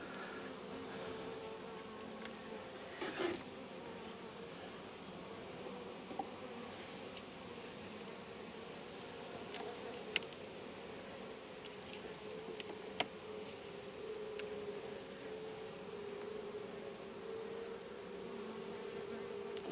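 Honey bees hum inside an open beehive, some of them robbing a frame, a steady, moderately quiet drone of many wings that goes on unbroken, with a few faint ticks and taps.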